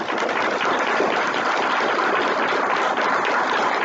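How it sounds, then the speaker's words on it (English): Audience applause at a fifth grade recognition assembly in a school, a dense, even roar of clapping from a large crowd that holds steady and loud throughout with no talking. "let's give this group of teachers and staff here a big round of applause, everybody"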